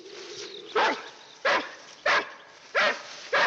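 A dog barks five times in a steady, evenly spaced series, each bark loud and close, with a faint low hum running beneath and no talking.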